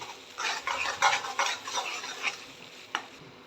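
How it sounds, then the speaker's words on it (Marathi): Ground gravy paste is stirred into cooked onion and tomato for shev bhaji, with a run of close, brisk scraping strokes of a spoon in the pan and a faint sizzle, ending with a single sharp clink. "ग्रेव्ही सगळी मिक्स करून घेते."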